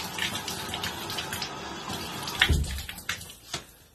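Water running from a tap while a sugar scrub is rubbed on skin in a home spa routine, a steady splashing hiss with a brief louder gush near the middle, no talking.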